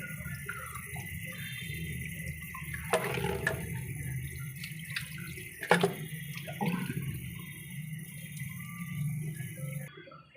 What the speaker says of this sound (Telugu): ఈ విధంగా 3-4 టైమ్స్ సాల్ట్ వేసుకొని శుభ్రంగా కడుక్కుంటున్నా.